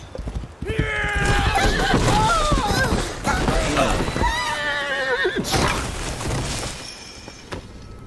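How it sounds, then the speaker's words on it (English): A horse in Assassin's Creed Valhalla whinnies loudly several times over clattering hoofbeats and crashing game noise, close and prominent throughout. "At least the horse is alive."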